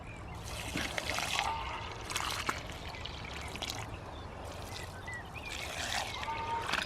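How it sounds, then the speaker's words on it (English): Water from a watering can pours into leek planting holes in a garden bed, a soft continuous trickle and splash heard at moderate distance with faint outdoor ambience. "Now I'll fetch the watering can and we'll just pour the water in."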